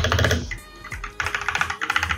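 Fast bursts of typing on a Husky Hailstorm gaming keyboard with red Gateron switches, crisp close key clatter in quick runs separated by a brief pause, no voices.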